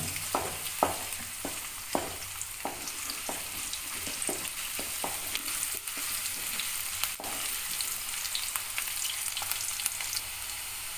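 A spatula stirs a rice mixture frying in a pan for egg fried rice, several distinct scraping knocks in the first half over a continuous close, hissing sizzle that carries on steadily to the end.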